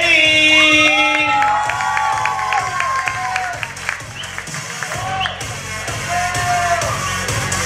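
Audience applause and cheering at a dance presentation during a quinceañera expo, a dense crowd wash with shouts and whoops over steady rhythmic music.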